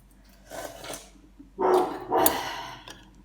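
A dog gives a few short, muffled barks and yips at a moderate distance, in uneven bursts with quiet gaps between them.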